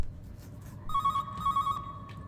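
A telephone rings in the video game Calling, an electronic trill sounding in two short bursts over a quiet room-tone background, with no one speaking.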